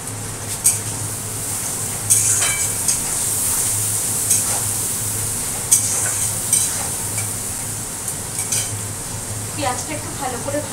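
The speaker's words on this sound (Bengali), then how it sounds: "পেঁয়াজটা একটু ভালো করে ভাজাবো" Onions sizzle in a pan while being browned with salt and turmeric, a steady close frying hiss punctuated by repeated scrapes and clinks of a spoon stirring against the metal.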